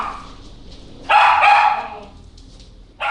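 Dogs barking at a puppy daycare, one loud burst of barks near the middle and another starting at the very end, with quieter yaps in between.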